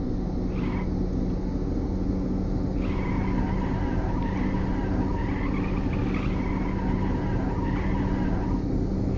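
A mining haul truck in the video game Stormworks drives with a steady loud engine drone and a constant rumble, while tire squeals rise and fall over it in several stretches.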